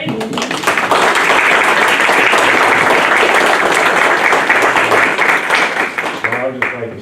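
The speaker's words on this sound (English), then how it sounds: "I think we need one more round of applause for everybody." A theatre-sized audience at an awards ceremony breaks into loud, dense applause that holds steady for several seconds before thinning out, with a few voices emerging near the end.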